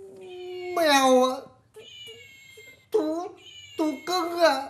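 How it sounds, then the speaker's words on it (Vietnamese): A cat meows several times nearby, with long drawn-out and rising cries that are loud and clear, separated by short pauses, in a quiet indoor setting without talking over it. "Mèo ạ."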